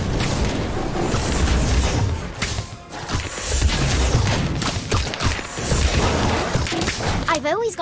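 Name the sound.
Incendio fire spell blast in Harry Potter Magic Awakened video game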